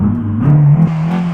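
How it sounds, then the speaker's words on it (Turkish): A car engine in Euro Truck Simulator 2, modded onto a tüp (LPG) conversion, cranks and catches, then revs up in a steady low drone, loud and close with no talk over it. "Haydi bismillah bir kontağımızı açalım. Marşımızı yapalım."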